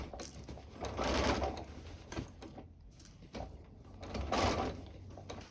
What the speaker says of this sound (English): while I'm still using the machine, I'm just going to quickly hem my dress